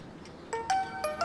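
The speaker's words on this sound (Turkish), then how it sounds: "Telefon çalıyor." A phone ringtone plays in short melodic bursts of bright tones after a quiet start, coming in close and fairly loud with no talk over it.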